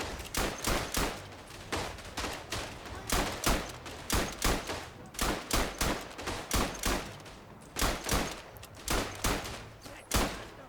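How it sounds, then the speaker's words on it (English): Light machine gun fire in the Verdun video game, loud bursts of rapid shots in repeated clusters with brief pauses between them, close and continuous across the whole stretch, with no talking. "Please stop standing in the firing arc of an active light machine gun."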